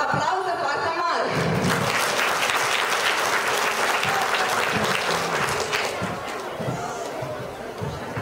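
A big audience bursts into loud, dense applause at a literary gathering in Ialoveni, with crowd chatter and a few voices mixed under the clapping, holding strong before easing off near the end.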